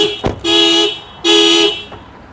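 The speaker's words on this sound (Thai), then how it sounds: "เปิดดูว่าแต่มันจะดังไหมนะครับ กันขโมย" A Toyota Hilux Vigo anti-theft car alarm blares in two loud electronic bursts separated by a short gap, with a brief click before each.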